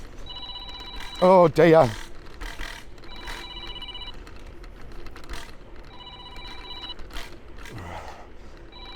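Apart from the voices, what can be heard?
mobile phone ringing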